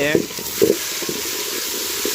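Onions, tomatoes and green chillies fry in hot oil with a steady sizzle as they are stirred in the pan, punctuated by a few soft scraping knocks.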